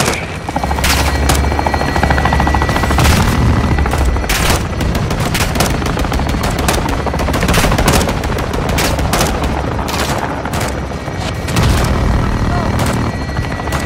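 Helicopter gunfire from a mounted weapon in a Call of Duty: Modern Warfare 2 battle, loud and near, with dense rapid bursts under a steady rotor drone and occasional booms.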